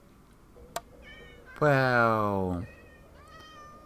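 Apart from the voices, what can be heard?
cats meowing in Minecraft video game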